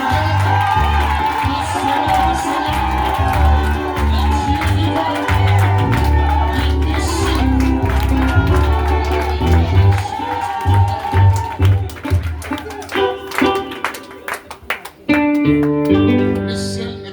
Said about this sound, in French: Le ciel n'est pas satisfait de votre acclamation.